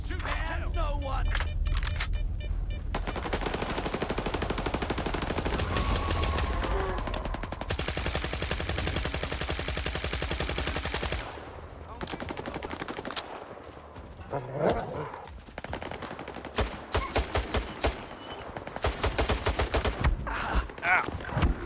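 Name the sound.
gunfire from the video game STALKER 2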